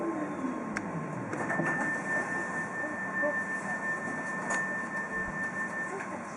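A PESA 122Nal Swing tram running in Łódź, its steady electric traction whine and rolling rumble heard from inside, with a sustained tonal hum and a voice talking over it throughout.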